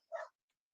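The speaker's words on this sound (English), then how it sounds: "I'm really sorry about the dogs barking" A single short dog bark, faint and a little distant, as if from elsewhere in a house while someone is at the front door; it is brief and isolated, with a tiny click just after and otherwise near silence.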